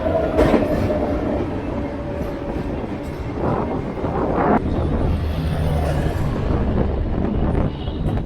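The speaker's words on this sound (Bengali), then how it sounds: "এই যে এই ট্রেনটি বলছি, কাইফিয়াত এক্সপ্রেস" The 12225 Kaifiyat Express passes close by, a loud continuous rumble of wheels and carriages with rhythmic clatter throughout.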